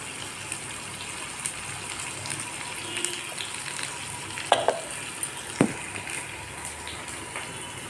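Onions fry in a pan toward medium brown for a mushroom curry, giving a steady, close crackling sizzle with a couple of sharp utensil knocks.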